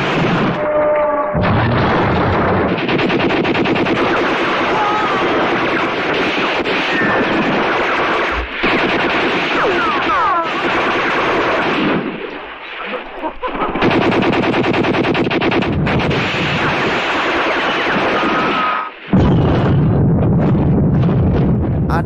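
Loud, dense battle gunfire with machine-gun bursts and booming explosions from an Indonesian independence war film, nearly continuous for most of the stretch with brief lulls and no speech.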